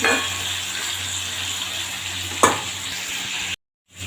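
Tomato curry sautés in a pan with a continuous close sizzle and a brief scraping stir midway, then drops abruptly into silence near the end.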